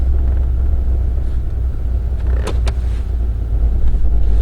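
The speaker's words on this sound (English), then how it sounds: "Four-wheel drive truck is a must with the weather like this." A four-wheel drive truck drives through heavy snow during a Newfoundland snowstorm, its engine a steady low rumble with one or two brief higher-pitched whines midway.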